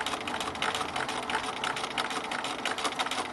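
A sewing machine runs continuously with a rapid, even mechanical whir while stitching fabric at an even stitch length, steady and fairly close, with no talking.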